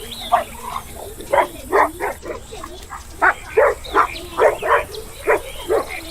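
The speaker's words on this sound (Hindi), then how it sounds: "तभी भेड़िया उसे देखकर गुर्राने लगता है।" A wolf snarls and barks in a string of short, harsh bursts, fairly close and loud, with brief pauses between them.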